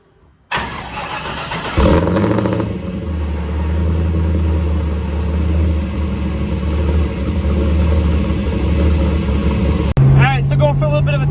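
A Chevrolet Camaro with an LSA engine, out on a test drive after rear brake work, cranks and fires up, then runs loud and close with a steady, throaty drone and a brief rise near the end.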